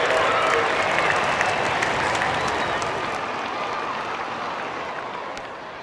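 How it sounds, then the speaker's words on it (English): A minor league baseball crowd at a Lake County Captains at Lexington Legends game gives a standing ovation, with loud, sustained applause and cheering that slowly fades over about six seconds. "Drennen gets a standing ovation from this crowd"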